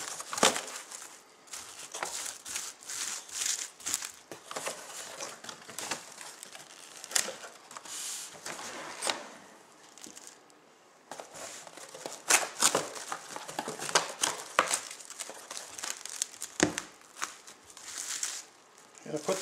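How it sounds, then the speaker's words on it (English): Plastic wrap crinkles and crackles close up as two sheets are stretched over a bowl of yeasted Belgian waffle batter, irregular bursts of rustling with brief pauses. "cover that with some plastic wrap. I usually do 2 sheets"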